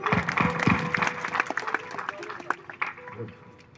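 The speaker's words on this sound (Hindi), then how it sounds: "बैठो, ताली बजा दो इनके लिए।" At a Hindu religious discourse, the audience claps briefly in a ragged burst that fades within a few seconds, mixed with voices and general crowd noise.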